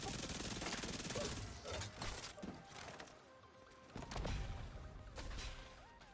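Gunfire in The Division 2, a dense barrage of rapid shots and impacts that keeps going loud and close, easing briefly in the middle before picking up again.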